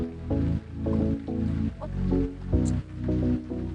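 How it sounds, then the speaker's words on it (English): A latex modelling balloon is pushed and twisted, giving repeated rubbery squeaks and squishing creaks in uneven bursts, close and fairly loud. "I'm going to start pushing and twisting as I go to where it meets the pinch twist at the top."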